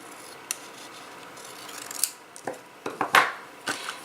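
Whisper White cardstock being cut in half for a handmade card, several quiet, close snips and scraping rubs spread unevenly, with a louder cut near the end.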